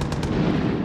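A quick pair of gunshot cracks in Far Cry 5 opens a short burst of loud, rumbling gunfire that continues with no break and no talk.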